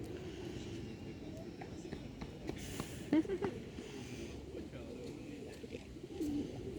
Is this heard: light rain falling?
no